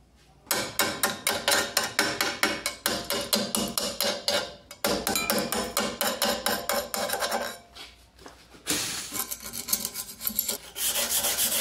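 Hammer knocking slag off a 7018 electrode weld bead, rapid repeated metallic chipping strikes in bursts with short pauses, close and fairly loud, followed by brisk scraping or brushing at the end.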